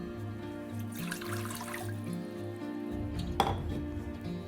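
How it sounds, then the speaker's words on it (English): A cup of water is poured into an Instant Pot with a trivet inside, a soft splashing pour under kitchen hum, followed by a sharp metallic clink. "and then add 1 cup of water."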